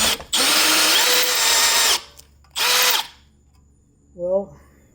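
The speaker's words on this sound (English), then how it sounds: "So you get a bigger drill bit and try to straighten up whatever was crooked." A power drill with a bigger bit bores into a broken bolt on a BMW E9X/E82, giving two close, loud bursts, one long and one short, followed by a brief voice.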